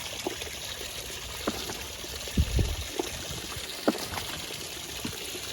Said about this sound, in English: There we go, getting some water coming out of it.